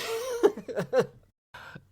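A voice coughs a few times in quick bursts, close up, then falls briefly silent before a short breathy sound at the end.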